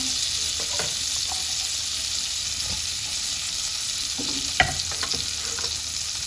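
Garlic frying in butter in a hot wok for salmon pasta, a steady close sizzle throughout, punctuated by scattered spatula scrapes and one sharper knock against the pan.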